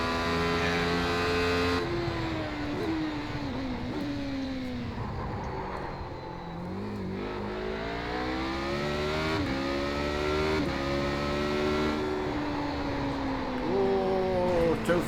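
A race car engine in iRacing, a continuous buzzing drone that rises steadily in pitch through the gears with repeated shifts and drops, sustained for the whole stretch with no voices.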